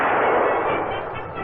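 A single loud gunshot from a Winchester Model 100 automatic rifle fired at a Maine black bear, a sharp blast followed by a long, broad rumbling echo that fades slowly.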